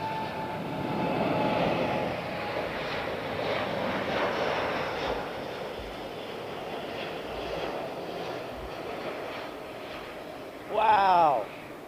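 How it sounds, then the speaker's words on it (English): An airliner on a derated takeoff from Heathrow gives a broad, rumbling engine roar that swells early and then eases, with faint voices partly over it and a brief sweeping tonal sound near the end. "that's a proper D-rated departure"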